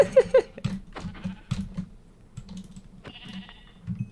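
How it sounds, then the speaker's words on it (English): Sheep in the Minecraft video game bleat in a few short calls, mixed with rapid computer keyboard clicking. "I got another white sheep"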